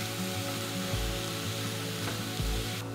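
Chopped spring onion, celery and red and green capsicum fry in a hot pan, a steady close sizzle with a few soft scrapes from stirring and no talking.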